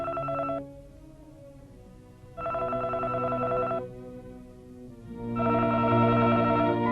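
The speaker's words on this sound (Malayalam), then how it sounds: "അവർ ഫോണിൽ വിളിക്കുന്നു." A telephone rings indoors in a home, sounding in three repeated tonal bursts separated by pauses, with no voices over it.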